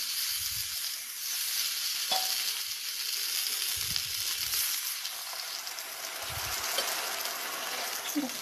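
Fried rohu fish being stirred in a pan before water is added, with a steady broad sizzle throughout and a few soft low scraping bumps from the spoon, no talking.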